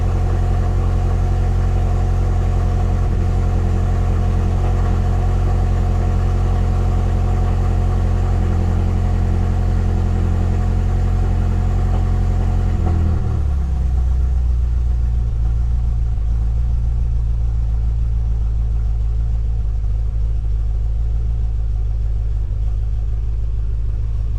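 A BMW F10 M5 with a twin-turbo V8 and a blown motor runs steadily at a loud idle, a deep, continuous rumble that drops lower partway through and settles into a rougher, quieter idle; no voices.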